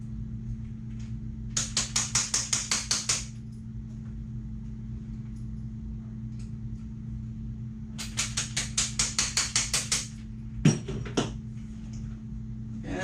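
Two quick runs of light, rapid taps sound close on a part, each run roughly ten strikes, with a quiet stretch between them, then a single sharper knock near the end over a low background hum.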